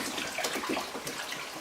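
Hot water pours in a steady, close splashing stream onto rice being soaked for jollof rice, lasting under two seconds with no voices.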